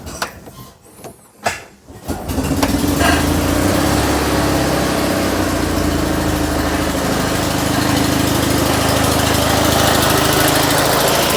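An Invacar's small engine starts up and runs steadily, warming so its oil circulates before an oil change; after a couple of seconds of clunks and handling noise it settles into a loud, constant, buzzing idle close by, with no talk.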